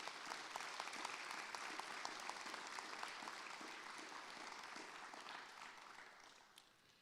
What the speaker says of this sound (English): Graduates, will you please give the people in the stands a big round of applause?